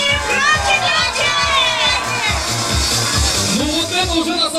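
A crowd of children at a summer event shouts together in loud, overlapping bursts, their excited voices rising and falling close by over rhythmic background music.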